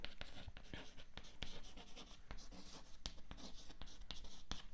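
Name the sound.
writing on board during physics lecture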